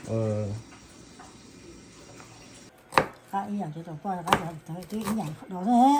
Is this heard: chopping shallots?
yes